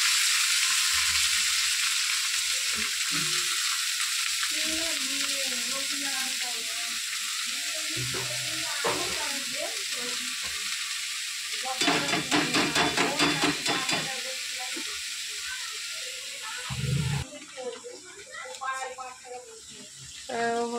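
Cabbage and potatoes frying together in a pan give a continuous close sizzle with stirring clatter and scraping, while a voice talks over much of it.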